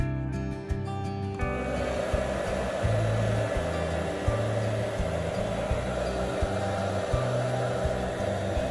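A hair dryer blows a steady, close whooshing hum while warming the case of an iPhone 11 Pro during a charging port repair, with faint rhythmic thumps beneath the airflow.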